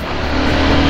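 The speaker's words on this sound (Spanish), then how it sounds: "Es tremendo lo que suena esta moto." A CFMOTO 800NK Advanced motorcycle engine roars steadily at high revs, loud and close, a dense continuous drone with no voices.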